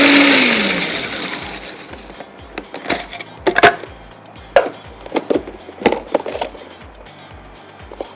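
An electric chopper blitzes plain biscuits into crumbs, whirring loudly at first and winding down, followed by a string of short, sharp pulsed bursts with quiet gaps between them.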